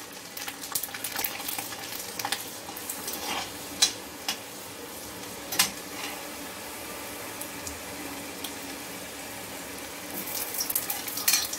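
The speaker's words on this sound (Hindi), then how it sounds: "जिसमें हम लहसुन डाल के उसको फ्राई करेंगे।" Garlic sizzles steadily in hot oil in a pan with occasional clinks and scrapes of a utensil, close and fairly quiet, no talking.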